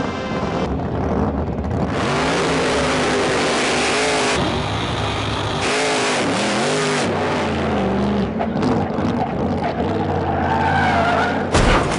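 A 468 cubic inch Hemi engine with 2,500 horsepower on a stunt vehicle roars loud and close, revving up and down with rising and falling pitch and tire squeal, with no one talking.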